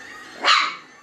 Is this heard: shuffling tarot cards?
no